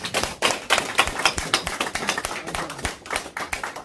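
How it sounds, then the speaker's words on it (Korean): An audience applauds at the close of a Korean press conference held by a candidate for council president, a dense, steady round of many hands clapping nearby that continues for several seconds without talk. "우리 박수로 모든 순서를 끝내겠습니다"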